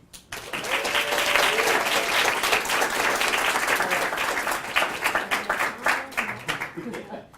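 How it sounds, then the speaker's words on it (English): Audience applauding an award winner at an academic lecture ceremony for a student multicultural research award, with steady, dense clapping that continues for several seconds, slightly thinning toward the end, with faint voices underneath. "Let's clap for him."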